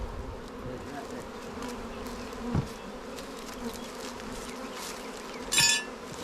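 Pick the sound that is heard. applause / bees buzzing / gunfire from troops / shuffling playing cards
bees buzzing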